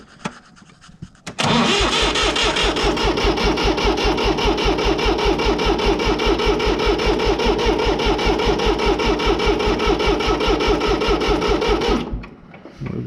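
A 484 tractor's diesel engine cranks briefly, then catches and runs loudly with a rapid, even knocking idle for about ten seconds before shutting off abruptly.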